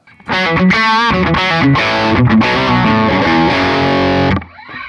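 Loud, heavily distorted electric guitar riff of chugging chords, played alone and ending abruptly with a short ringing tail.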